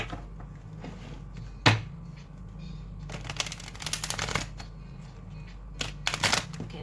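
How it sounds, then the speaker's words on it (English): Tarot cards being shuffled by hand, a couple of brief riffling flurries and one sharp slap of the deck, fairly close and quiet against a low steady room hum. "Okay, that was a bad shuffle."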